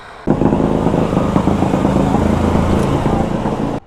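Motorcycle engine rumbling close and loud as the bike is ridden into a service shop in Dhaka, starting abruptly, holding steady for a few seconds, then cutting off.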